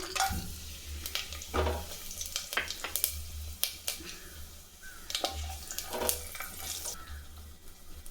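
Bay leaf, a piece of cinnamon, three cardamom pods, one star anise and a little fennel seed are tempered in hot oil for a vegetable biryani. There is close sizzling and crackling with intermittent scrapes and clinks of stirring.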